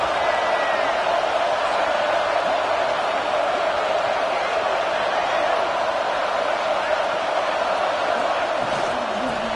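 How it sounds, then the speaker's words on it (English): A huge American football stadium crowd roars continuously during a red zone defensive stand, a dense wall of cheering and shouting that stays loud and steady throughout. "This crowd is trying to inspire this defense to make a big red zone stop."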